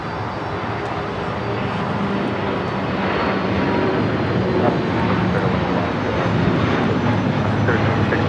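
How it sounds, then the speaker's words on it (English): An All Nippon Airways Boeing 787-8 Dreamliner takes off from LAX runway 25 left, a loud, steady jet roar that fills the air and holds without a break, with faint radio chatter underneath. "we also have All Nippon Airways Flight 125 now rolling up in the air"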